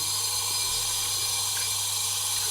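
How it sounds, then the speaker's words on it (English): Running water from a tap rinses a shaving brush, making a steady, even rushing hiss throughout. No voices are heard. "I haven't cleaned the brush, we're gonna just rinse that"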